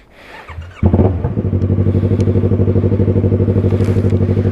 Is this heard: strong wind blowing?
no